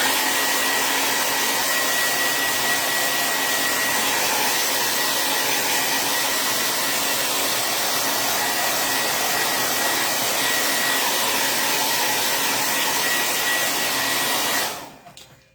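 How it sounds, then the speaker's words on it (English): A hair dryer runs loud and steady at close range, drying a raised-pattern craft tray, its even roar holding for about fifteen seconds before cutting off abruptly at the end. "So now I'm going to dry it one more time."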